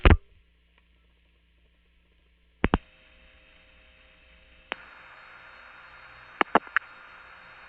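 A telephone call routed over N1 carrier to a 4A crossbar switch: a few sharp clicks, then a steady hiss with faint hum on the line, more clicks later, and no call-progress tones.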